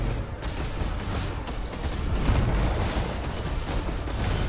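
Summoned explosion ability going off during a boss fight in Path of Exile, a dense, continuous rumble of blasts that stays loud and steady for the whole stretch, with no voices.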